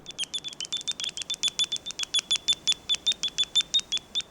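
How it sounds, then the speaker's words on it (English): Bat echolocation calls come through a bat detector as a rapid, regular train of sharp clicking chirps, about five per second, steady and clear with no talk. "a bat detector, which is a device that converts high-pitched calls into sounds that we can hear"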